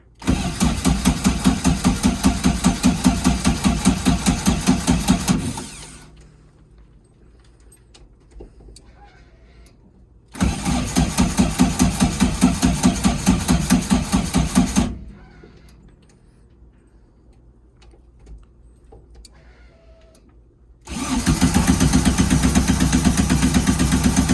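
A Subaru-engine-swapped VW Karmann Ghia cranks in three long, steady bursts separated by quiet pauses, turning over loudly each time without catching.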